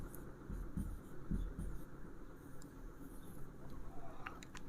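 A teacher writing on a board during an English grammar lecture, soft scratchy strokes in short bursts with some faint tapping, close and fairly quiet.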